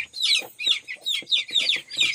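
Hens clucking in a backyard chicken coop, a run of close, loud, repeated clucks in a regular rhythm with no talk.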